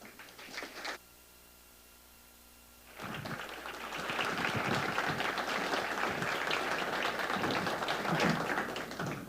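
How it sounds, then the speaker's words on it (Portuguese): An audience at an evening talk show in a stage hall breaks into loud, sustained welcome applause for the arriving guest, swelling after a brief quiet and continuing as a dense wash of many clapping hands. "vamos recebê-lo com um aplauso de boas-vindas."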